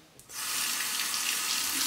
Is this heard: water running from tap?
yes